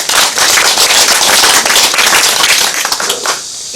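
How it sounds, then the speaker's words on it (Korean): Audience clapping at a meeting with a city mayor, dense and loud, sustained for several seconds before thinning out near the end. "박수 한번 쳐주시기 바랍니다"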